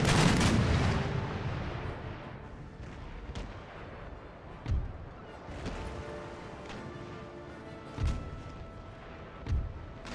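Sailing warship cannons firing in the naval battle game Empire: Total War, a booming barrage at the start followed by several spaced heavy blasts rolling out over a continuous rumble of sea battle ambience.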